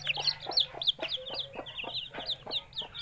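A young chick with split legs clucks and peeps repeatedly in close, quick bursts, the calls rising and falling in a steady rhythm with no talk.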